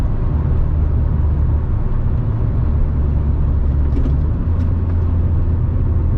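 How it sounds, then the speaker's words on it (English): A Volkswagen Beetle project car's engine drones steadily from inside the cabin, a loud continuous low hum with a slight pitch shift midway, no voices. "Rev matches nicely."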